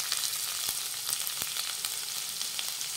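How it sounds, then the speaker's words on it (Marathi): Finely chopped onion sautéing in hot oil in a pan with cumin seeds, a steady close sizzle and crackle throughout, with a few soft stirring taps and no voices. "आता हा कांदा मंद आचेवर हलक्या सोनेरी रंगावर परतून घेऊयात"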